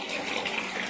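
A bathroom tap runs steadily into a bath, a short continuous splashing gush of water with no voices.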